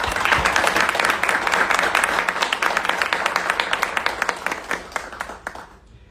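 An audience at a literary academy ceremony claps warmly, a dense patter of many hands that thins out and dies away near the end.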